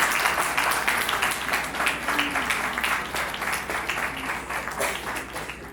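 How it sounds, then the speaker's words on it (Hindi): Wedding guests clapping as a crowd, sustained rapid applause filling the room at a steady level, with faint voices mixed in. "ताली बजा दीजिएगा उसके बाद, है ना।"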